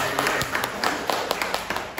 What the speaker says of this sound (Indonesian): Tepuk tangan buat Via